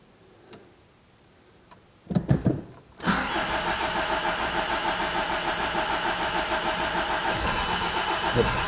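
A 1.9 TDI diesel car engine, just repaired after a broken timing belt, cranks briefly then catches and settles into a loud, steady idle with a rhythmic diesel clatter, recorded close up.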